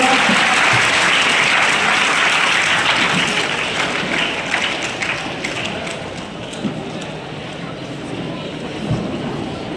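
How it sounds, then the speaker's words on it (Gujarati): Students at a school tree-planting event applaud in a dense, loud burst of clapping that stays strong throughout and eases slightly toward the end, with voices mixed in. "જોરદાર તાળીઓના ગડગડાટ સાથે વિદ્યાર્થી મિત્રો"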